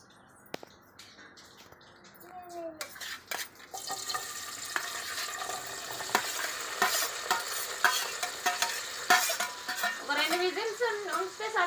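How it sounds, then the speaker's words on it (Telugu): Mutton being stirred with salt, chili, onion and green chili in a pan, scraping and sizzling in irregular bursts that grow louder, with birds chirping in the background and brief voices. "దేనికి మటన్ కలుపుతా ఉల్లిగడ్డ పచ్చిమిర్చి వేసేసి మగ్గేలోపు చేస్తా"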